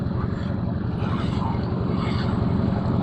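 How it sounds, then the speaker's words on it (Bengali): A motor boat passing on a flooded river, its engine a loud, steady low droning rumble that holds close throughout. "এই যে আরেকটা নৌকা আসতেছে"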